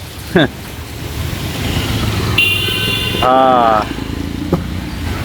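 A vehicle pulls up on a rainy early-morning street in Mirpur 1, its engine rumbling close by, with two short horn honks midway and a brief voice-like sound near the start.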